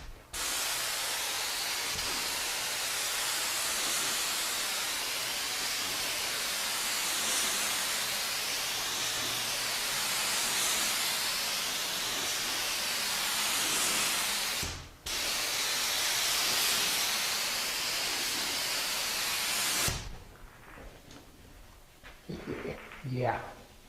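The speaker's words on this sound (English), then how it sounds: "Gravity fed, HVLP, Harbor Freight paint." A gravity-fed HVLP paint spray gun spraying latex paint gives a loud, steady hiss in two long bursts separated by a short break, followed by quieter handling noise at the end.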